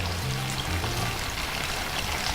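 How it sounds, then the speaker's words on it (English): Water being poured into a pan of thickened fresh cream sauce, a steady close splashing trickle lasting a couple of seconds over a low background hum. "So I'm going to add a little bit of water."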